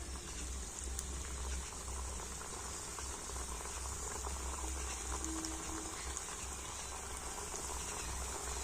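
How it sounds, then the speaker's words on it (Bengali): Palm-fruit khasta gaja dough frying in lightly heated oil, giving a soft, even fizz and gentle bubbling that runs steadily throughout with no voices. "আর তেলটা একদম হালকা গরম হয়ে গিয়েছে আর এবার আমি গজাগুলো তেলের মধ্যে দিয়ে দেবো"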